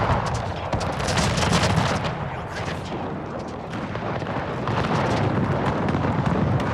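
Janissary musket volleys crackle across a Pike & Shot Total War battlefield. Dense, overlapping gunfire pops and booms in rapid, irregular bursts and comes in waves that swell again toward the end, loud and continuous, with no talking.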